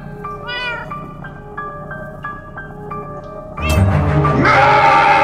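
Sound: cat meowing in video game Minecraft Story Mode

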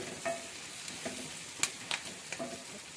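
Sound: potato pieces being stirred in a frying pan

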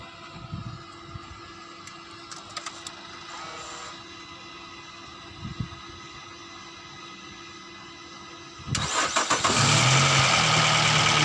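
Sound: car engine started with 4-in-1 jump starter

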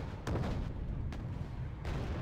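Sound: artillery fire in Wargame AirLand Battle video game

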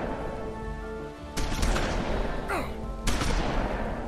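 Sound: shotgun fire in video game The Wolf Among Us

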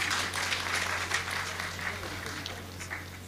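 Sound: applause

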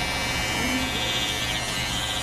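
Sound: electric hair clippers cutting short hair

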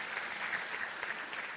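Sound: audience applause for speakers

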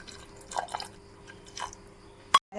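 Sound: water poured onto jaggery to make syrup

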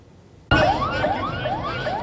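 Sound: sirens during storming of U.S. Embassy in Baghdad

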